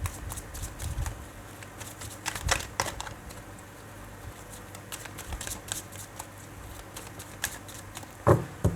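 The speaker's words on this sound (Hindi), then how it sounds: "चलिए फाइनल शफल।" Tarot cards are shuffled by hand close by, making a soft, steady papery riffling and patter with a few sharper snaps near the end.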